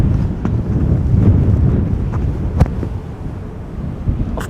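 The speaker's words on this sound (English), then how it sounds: "but the wind is just so severe" Severe post-storm wind buffets a microphone outdoors at Amsterdam Schiphol Airport, a constant rumbling roar with gusty surges and a few sharp thumps, no voices.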